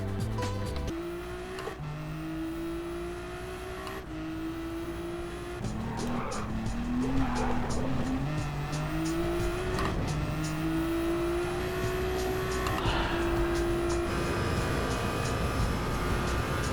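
Race car from Gran Turismo 7 on a Le Mans-style warm-up lap: a steady engine whine rising and falling through gear changes, with tire squeal and skidding over continuous engine noise, no talk.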